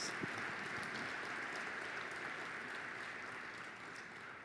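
Audience applause for speakers at a community unity celebration: steady, dense clapping from a hall crowd that holds at an even level for several seconds and fades slightly toward the end.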